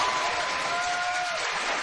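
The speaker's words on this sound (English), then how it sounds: "Just applaud for that person you would vote for." Studio audience at a late-night talk show applauding in a dense, steady wash of clapping that runs evenly throughout, without speech.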